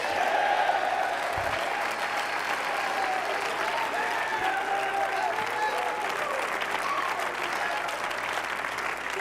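A church congregation claps hands steadily, loud continuous applause mixed with scattered voices and shouts from the crowd.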